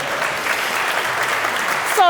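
Audience applause fills a room at a business summit session, steady dense clapping across the whole stretch with no voices, ending with a brief high whistle-like tone near the close.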